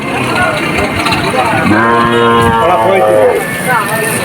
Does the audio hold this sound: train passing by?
no